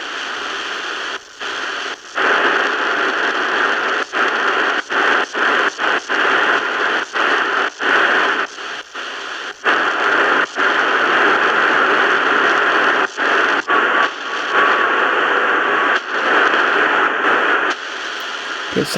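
A Prunus J-03C shortwave radio tuned to 4840 kHz gives a steady hiss of static and noise with faint, wavering tones; brief dropouts break it up throughout, and no one speaks.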